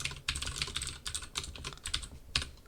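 Keys clack on a computer keyboard in a quick burst of irregular taps as a number is typed, close and clear with no speech.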